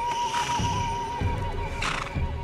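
A dying horse in an animated show gives a long, wavering whinny up close, its tone rising and falling over a low rumbling background.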